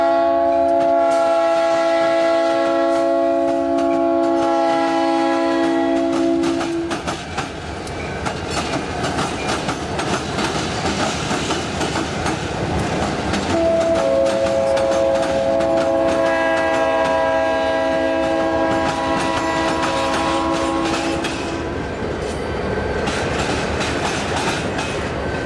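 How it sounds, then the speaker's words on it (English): An SD40M-2 leads a freight with a UP SD60, a UP C40-8 and an SP tunnel motor across the BNSF diamond at Stockton. Two long horn blasts ring out over a steady, close rumble and clatter of wheels on the crossing. "An SD40M-2 leads a UP-SD60, a UP-C40-8, and an SP tunnel motor across the BNSF."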